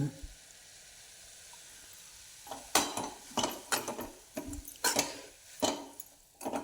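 Matki bhaji sizzles gently in a pan, then a spoon stirs it in a series of sharp scraping, clattering strokes against the metal, close and irregular.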